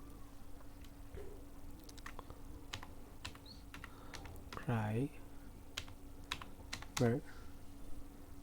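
Keys on a computer keyboard are tapped in short, uneven bursts of light, crisp clicks up close while a user enters text in Adobe Illustrator, with a couple of brief voice sounds in between.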